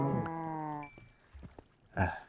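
Cows mooing in the Minecraft video game, a long drawn-out bellow followed by a second shorter moo and a few faint clicks and thumps, close and clear.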